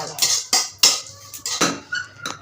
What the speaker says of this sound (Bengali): শুকনো কড়াইতে একটু ভেজে নিতে হবে